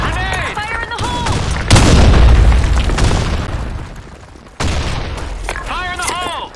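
A grenade goes off in the online shooter game Blackshot: a loud, heavy boom with a long rumbling decay, then a second sharp blast, with in-game voice callouts at the start and end.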